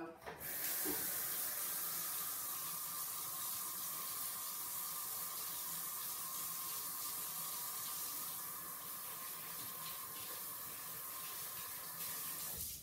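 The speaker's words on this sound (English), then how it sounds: "the first most important thing to do anytime that you're going to cook is wash your hands" Hands are washed under a running kitchen sink tap before cooking cookies, a steady close rush of flowing water that carries on almost unbroken.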